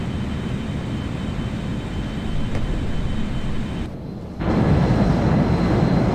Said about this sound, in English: V1, rotate. Positive rate of climb. Gear up.